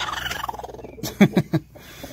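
A broody hen gives a few short, harsh guttural growls in quick succession, close by, after a brief stretch of low murmuring.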